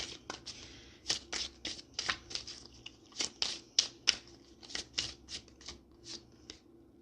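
Tarot cards being shuffled and pulled, a quick series of crisp riffling snaps and slaps in uneven bursts, close and fairly quiet with no talking.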